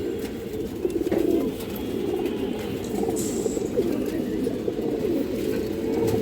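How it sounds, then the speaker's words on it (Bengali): Steady low cooing from a green-necked pigeon fills the clip, a continuous murmuring coo close by with no talking. "খুব সুন্দর এক পায়ে সবুজ গলা কবুতর আছে"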